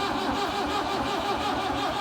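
An old diesel tractor engine, left abandoned for three years, runs steadily up close with a continuous low rumbling drone and a throbbing rhythm that holds even throughout.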